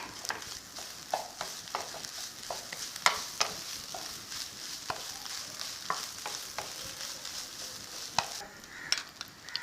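Chicken filling with coriander stirred and frying in a pan, a steady sizzle broken by frequent scraping spoon strokes, close and moderately loud with no talking.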